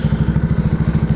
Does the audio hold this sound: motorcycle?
yes